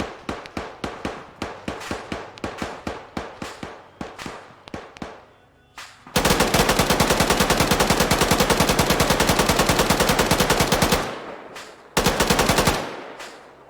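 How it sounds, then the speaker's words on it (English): A light machine gun fires in Arma 3: first a string of separate single shots, then a long sustained burst of rapid automatic fire, a pause, and a final short burst, loud and close with no talk. "Oh, look at this LMG keyholing that spot."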